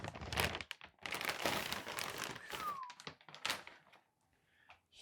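Cardboard packaging being opened for a Galax RTX 4080 graphics card, with crinkling, rustling, thunks and taps close up, busy for several seconds before fading to quiet handling.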